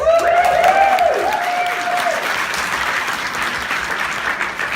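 Audience at a Sydney panel event applauding and cheering on a competing team, a dense sustained wash of clapping with a few whoops, loud at first and tapering slightly.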